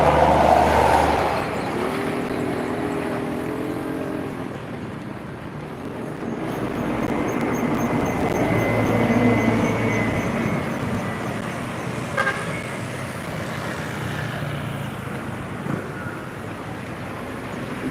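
Traffic rolls along the Palembang–Jambi eastern highway, engines and tyres rising and fading as vehicles pass at moderate distance, with a horn toot near the start and steady road rumble throughout.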